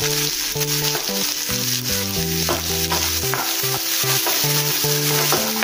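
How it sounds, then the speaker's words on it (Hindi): Onions go into hot oil already crackling with cumin, mustard seeds and carom seeds for a bhindi aloo besan sabzi, giving a constant, loud frying sizzle under background music. "अभी इसमें हम प्याज डालेंगे।"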